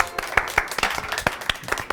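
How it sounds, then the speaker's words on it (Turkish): Faint applause from a small studio audience on a Turkish talk show, a scattered, uneven patter of several hands clapping at moderate loudness with occasional sharper claps. "soluk bir alkış oldu"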